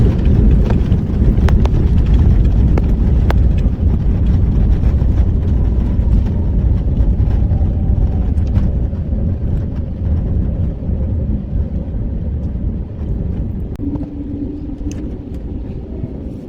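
A steady low roar of a plane on landing rollout at Noi Bai International Airport, Hanoi, fills the cabin, slowly easing in loudness with occasional rattles.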